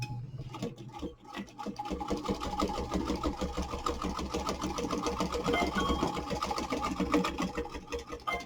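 A sewing machine stitches through hard covers for a junk journal, running in a steady, continuous mechanical whir with a rapid rhythmic needle chatter, fairly close and without any talk.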